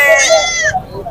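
Goats bleat at an outdoor goat market, with wavering calls rising loud and close over the crowd noise for about a second. Market voices talk in the background.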